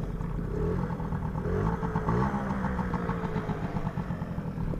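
A 1981 Honda Motocompo folding scooter, a small 50cc NZ50Z, idles steadily nearby with a continuous buzzing putter and some light mechanical clatter, no talking over it.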